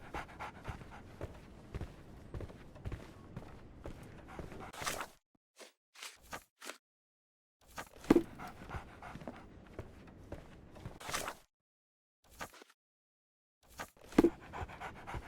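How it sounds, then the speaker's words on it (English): A dog pants in the video game Sherlock Holmes The Awakened, with quick, rhythmic breaths in bursts broken by short silences, close and fairly soft, along with light footstep-like shuffles. "So, Barnes has a dog now."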